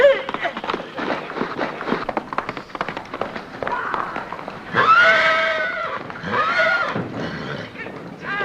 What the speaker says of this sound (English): I got the best cow horses this side of KC.